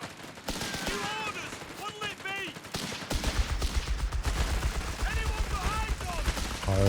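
Machine gun fire in Company of Heroes 3 battle, rapid rattling bursts under continuous battlefield noise, with someone commentating over it throughout.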